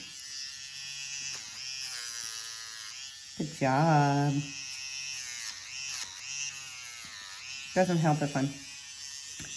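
An electric clipper trims the paws of Maya, a sable parti female dog, running as a steady close buzz throughout while someone talks over it and briefly praises the dog.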